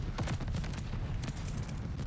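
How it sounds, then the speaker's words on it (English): Mortar strikes in Call of Duty: Vanguard, a series of sharp, fairly loud impacts spaced irregularly over a couple of seconds against low rumbling battle noise. "Oh, this is our mortars."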